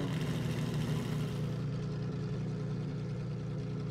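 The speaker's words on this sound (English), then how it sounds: "Just listen to the startup of this car." LRXK car from the Legendary Car Pack in a video game, its engine running at a steady, close, loud idle with a deep, even hum that settles slightly partway through, no voices.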